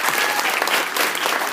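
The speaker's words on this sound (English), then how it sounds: "So we can have a round of applause here for Olga." An audience claps after a university presentation in Scotland, dense steady applause from a room full of people, loud and close for the whole moment.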